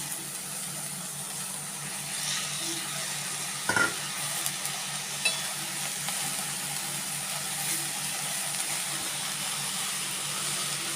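Amaranth leaves and meal maker cook in a pan over a low flame, giving a faint, steady sizzle with a few soft clinks and stirring scrapes throughout.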